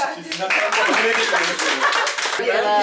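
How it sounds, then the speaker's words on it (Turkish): Friends clap together at a New Year's party at home, a run of quick, close handclaps mixed with chatter and laughter. "Pençeye kocaman bir alkış."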